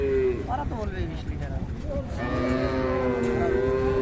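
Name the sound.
cow mooing at a cattle market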